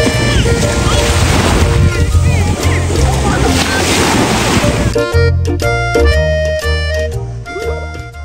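Broadband surf and crashing waves wash continuously along a windy beach for about five seconds, loud and close, before music with a steady beat takes over and the water fades beneath it.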